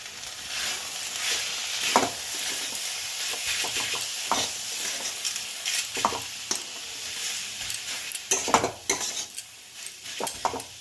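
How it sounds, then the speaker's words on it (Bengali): Chicken roll filling is stirred in a pan with garam masala, a steady sizzle running under repeated scraping and clinking of a spatula against the metal, with a few sharper knocks late on and no voices. "গরম মশলা গুঁড়ো দিয়ে দিলাম, আর একটু ধনে পাতা দেব। ব্যাস, এবার নেড়ে নামিয়ে নেব।"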